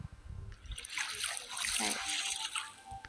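Swimming through water in a zombie survival game, heard as soft splashing and sloshing strokes in a steady run that is fairly quiet, with faint low sounds beneath.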